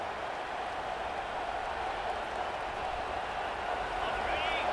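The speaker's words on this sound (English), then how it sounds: "And the crowd coming to life here" A football stadium crowd at a Kentucky Wildcats versus Arkansas Razorbacks game roars in a dense, sustained wash of cheering that swells slightly toward the end.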